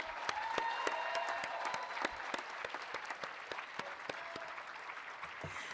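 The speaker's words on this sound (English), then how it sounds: "Can we give him a round of applause?" A crowd at a nursing commencement ceremony applauds, with sharp individual claps standing out over a soft, sustained wash of clapping that holds at an even, moderate level.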